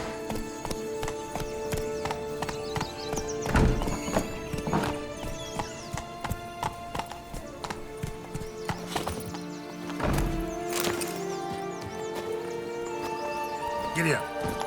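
A horse in The Witcher 3: Wild Hunt gallops with steady clip-clopping hooves and lets out several loud neighs, while someone talks and urges it along over a tonal game backdrop.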